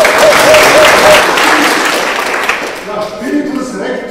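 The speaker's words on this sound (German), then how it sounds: "der Herr Grassl hat sich auch einen herzlichen Applaus verdient." Loud, warm applause for Herr Grassl rises at an art exhibition opening at the Bad Reichenhall art academy. The clapping thins and tapers off over a few seconds, with faint tonal sounds near the end.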